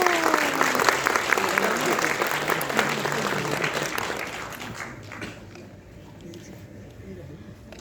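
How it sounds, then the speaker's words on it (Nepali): An audience claps at a film premiere in a mall, loud sustained applause from a crowd that gradually fades away toward the end. "एकदमै आजको कार्यक्रमको शुभारम्भ एउटा ऊर्जाशील तालीबाट गरौँ न हामी सबै मिलेर"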